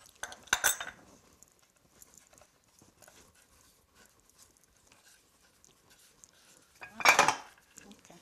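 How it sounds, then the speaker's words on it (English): A ravioli cutter seals the edges of frittelle dough on a board, giving two brief, close metallic clatters separated by a long, near-silent gap. "now we're gonna really seal all the edges with a ravioli cutter"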